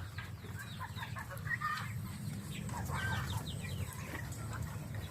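Backyard farm chickens and turkeys cluck at feeding time, bursts of overlapping clucks and calls rising and falling over a low steady background rumble, with no talking.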